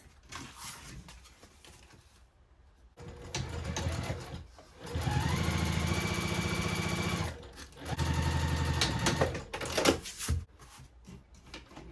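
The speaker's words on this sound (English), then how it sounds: "just sew this seam at a 1/2 inch seam allowance" Sewing machine stitching a half-inch seam on a fabric tube for a tote bag, running in several sustained close bursts separated by brief pauses and handling noises.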